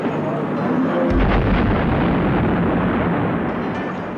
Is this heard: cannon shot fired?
yes